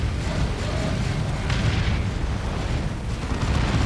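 A heavy orbital bombardment strike lands in Dawn of War 2 during a Space Marines versus Tyranids battle, a dense sustained roar of explosive rumble with a brighter burst partway through, loud and continuous throughout.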